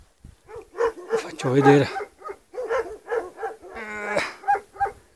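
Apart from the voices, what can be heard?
dogs barking at an alpine pasture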